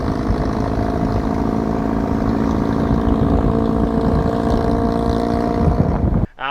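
A 2000 Toyota Hilux engine with a less restrictive muffler drones loudly and continuously at a steady pace, with a rough exhaust rumble and no voices until it cuts off abruptly at the end.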